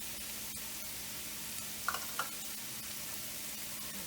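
Onion sautéing in a pan gives a quiet, steady sizzle with a soft hiss throughout, broken by a couple of light stirring clicks near the middle.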